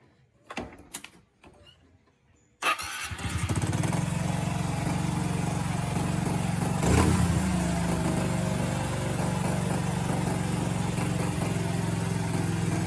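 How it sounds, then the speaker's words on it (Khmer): A few clanks and rattles, then a repaired motorcycle engine starts and idles steadily and loudly, with a brief rev partway through. "ម៉ូតូយើងរៀប ឃើញថាឆេះបានជោគជ័យ ហើយសំឡេងវាក៏ ឡើងណែនហាប់មកវិញដែរ"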